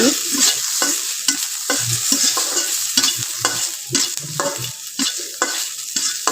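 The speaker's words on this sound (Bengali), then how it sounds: "কয়েকটা কাঁচা মরিচ এবং কয়েকটা শুকনো মরিচ কেটে ভেজে নিচ্ছে" Garlic cloves, green and dried chillies and a little rice fry in a pan, stirred briskly so a loud close sizzle is broken by frequent rhythmic scrapes and clacks of the spoon.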